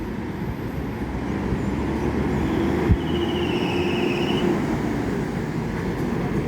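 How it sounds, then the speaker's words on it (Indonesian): A bus enters a terminal on a Sumatra route with a steady, loud rumbling engine drone throughout, a single brief knock partway through and a faint whine above it. "bus yang kedua masuk ke terminal"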